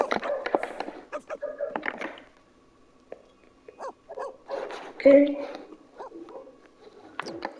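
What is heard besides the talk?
dog barking in The Sims 4 video game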